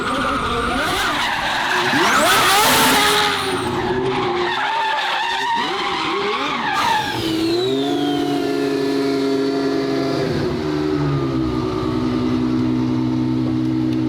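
A twin-turbo V12 Ferrari drifting, its tires skidding and squealing in long, loud howling sweeps that rise and fall across the slide, with the engine's scream mixed in and no talking over it.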